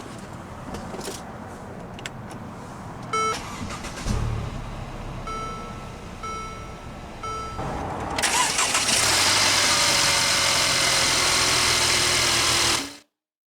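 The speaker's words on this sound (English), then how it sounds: "let's go ahead and start the engine." A 2016 Mercedes-Benz SLK 300 engine cranks and catches, then settles into a steady, loud idle that continues to the end, after some quieter cabin clicks and chimes beforehand.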